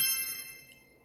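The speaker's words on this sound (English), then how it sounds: "It's just a simple little bell, and I always turn the volume way down." A simple bell chime used as the Magic Reveal sound effect in CapCut rings once at low volume, with bright sustained tones fading out over about a second.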